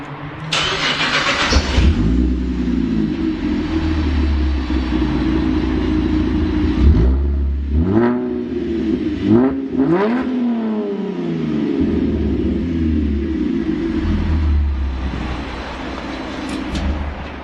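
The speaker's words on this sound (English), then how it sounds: "that's what a J-piped VE sounds like in an undercover car park" A Holden VE Commodore with a J-pipe exhaust starts up in an undercover car park, then idles with a deep rumble. Several sharp revs rise and fall in the middle and echo loudly off the concrete.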